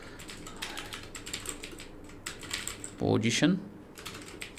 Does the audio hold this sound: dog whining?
no